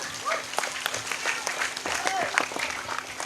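Applause from the audience at a humorous Islamic sermon in Bongas, steady clapping with scattered louder claps and light voices mixed in across the few seconds.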